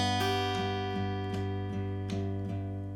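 Electric guitar picking the opening notes of a riff, a steady run of plucked notes about every 0.4 seconds over a sustained ringing tone, close and alone.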